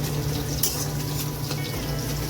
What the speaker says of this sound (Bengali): একটু কমিয়ে মাছটা ভাজছি